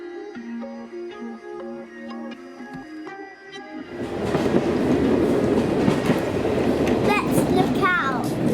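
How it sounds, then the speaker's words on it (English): A diesel heritage train on a preserved line, heard from the front of the carriage. Quiet tonal cab hum gives way after about four seconds to a loud, steady rumble of wheels and engine, with a brief flange squeal near the end. "I've never been on a diesel train like this."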